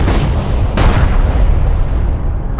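Battle gunfire from Homeworld: Deserts of Kharak, a dense, continuous roar of heavy booming shots with a sharp blast near the start, loud and unbroken throughout.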